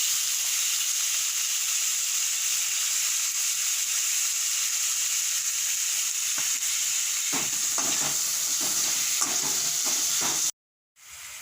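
Minced chicken and chopped tomato frying in a pan: a steady, loud sizzle with clattering stirs toward the end, then a sudden short cut to silence.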